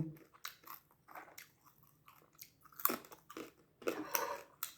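Crunchy homemade pork cracklings being bitten and chewed up close, with sharp crackling crunches in irregular bursts and quiet pauses between bites.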